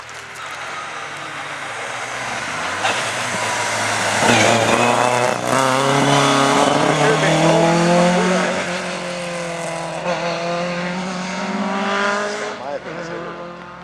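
A rally car races along a stage at the DM 5 rally near Roskilde, its engine loud and close, revving hard and rising in pitch as it roars past, with voices in the background.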